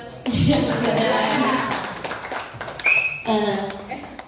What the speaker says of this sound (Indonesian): Beri aplaus buat